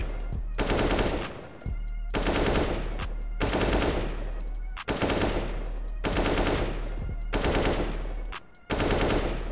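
Gold AK-47 rifle firing in CS:GO, long rapid automatic bursts of loud, close gunfire separated by brief pauses, repeating about six times with no talk.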